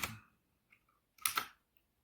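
A few short clusters of computer keyboard keystrokes while typing a Linux boot command, with a quick burst at the start and another near the end, close and fairly quiet with gaps between.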